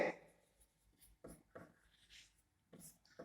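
A pen writes on paper in quiet, scratchy strokes that come in short separate bursts with pauses between them, close and faint.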